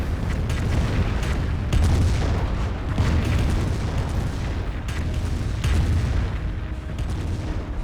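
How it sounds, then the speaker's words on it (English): A Calliope rocket barrage in the Company of Heroes strategy game lands as a rolling series of heavy booms and explosions, about five distinct impacts over a continuous rumbling bed of battle noise. "here comes the Calliope rocket barrage"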